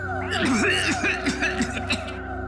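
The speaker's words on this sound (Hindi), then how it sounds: "जल्दी से पानी पी रहा था, खांसी आ गई।" A man coughs in short repeated bursts after gulping water too quickly, close and fairly loud, with a voiced, throaty, almost chuckling quality and steady background music underneath.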